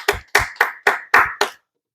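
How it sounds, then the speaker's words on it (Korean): A church congregation claps at the end of a Sunday service: six strong, evenly timed claps in a roomy space, then silence. "하나님 앞에 감사와 영광의 박수 올려드리겠습니다."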